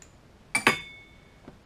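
Steel LS engine cylinder head bolts clink together twice in quick succession as a magnet picks them up, followed by a faint ringing tail and one soft tick.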